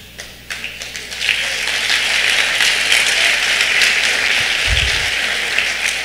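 A church congregation applauds a sermon, starting with a few scattered claps that swell into sustained, loud, fairly close applause from the crowd.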